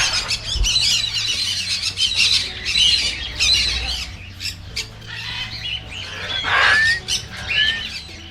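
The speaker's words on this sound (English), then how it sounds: "Oh, here's some parrots too. These are the guys making all the noise." Parrots squawk repeatedly in harsh, shrill bursts, with some birds close and others farther off, among background bird noise with no talk, at an animal farm in Korat, Thailand.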